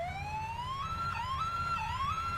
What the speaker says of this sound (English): Look, an ambulance with flashing red lights is parked near the fountain.